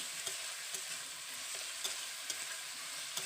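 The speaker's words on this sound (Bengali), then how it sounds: "আমি প্রথমে ছোলাটাকে ভালো করে কষিয়ে নিচ্ছি" Boiled chickpeas sautéing in a pan for ghugni, a soft, steady frying sizzle with light stirring scrapes at regular intervals and no voices.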